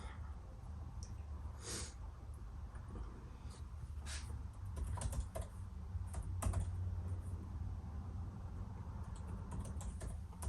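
Typing on a MacBook Pro 14-inch laptop keyboard, quiet, close key taps in uneven bursts with a few louder clacks.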